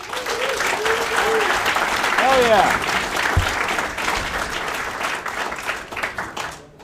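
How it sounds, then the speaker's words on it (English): A conference crowd at LinuxFest Northwest breaks into loud, sustained applause with whoops and cheers, then tapers off, while a voice calls out briefly over it. "Round of applause for LinuxFest"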